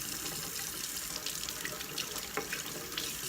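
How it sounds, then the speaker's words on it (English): Tap water runs steadily into a sink while surgical instruments are rinsed under it, a continuous close splashing with faint clinks. "So I'm going to rinse these off, and they'll be put directly into that bowl to soak for a little bit."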